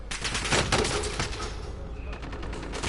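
Gunfire in the video game Warzone, dense rapid bursts of shots rattling without pause, loud and close, with a brief lull before a further burst of firing.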